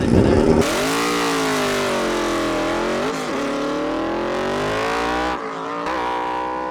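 A VMAX motorcycle roars in a drag race, its engine note sweeping upward under hard acceleration, loud and continuous, with a brief dip near the end before the roar picks up again.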